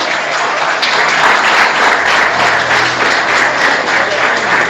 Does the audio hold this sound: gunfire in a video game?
no